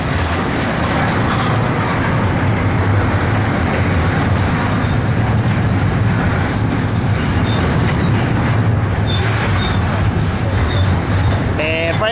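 A Pacer stack freight train rolls past at close range, a steady loud roar of wheels and cars that holds without pause, with faint squeals near the end.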